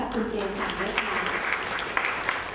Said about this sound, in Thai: ขอเสียงปรบมือให้กับคุณเจสันด้วยค่ะ